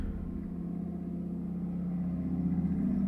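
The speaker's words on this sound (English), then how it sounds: "It's a loud truck. It's a very loud truck." Heavy truck engine rumbling loudly and steadily, deep and continuous, growing slightly stronger toward the end.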